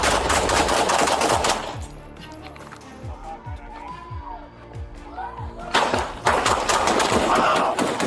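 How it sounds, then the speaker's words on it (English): Gunfire exchanged between a suspect and a deputy in police body cam footage: a burst of sharp rapid shots, then a quieter stretch with scattered cracks and a distant siren, then another loud burst. "Shots were fired, Diaz was hit"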